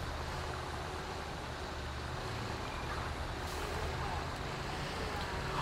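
Armored BOPE police truck driving in GTA V, a steady broadband engine and road rumble running continuously throughout, with faint talk mixed in.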